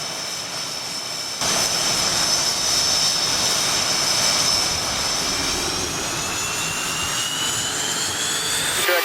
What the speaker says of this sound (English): So once I start the motors up, the right engine will start first.